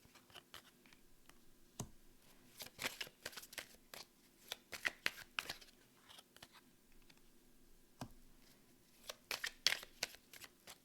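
Tarot cards are laid out one after another in quiet, scattered clicks, light snaps and soft slides on a table, close and intermittent, with no talk.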